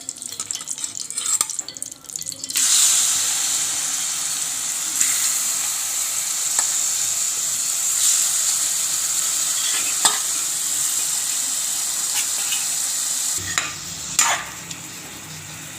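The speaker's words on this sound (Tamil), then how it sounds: "இப்போ நம்ம எறாவை போட்டு லைட்டாக வதக்கி எடுத்துக்கலாங்க." Prawns sautéing in ghee in a pan give a steady, fairly loud sizzle for most of the stretch, with occasional spatula scrapes and clicks, after a brief quieter start and a drop near the end; no one talks.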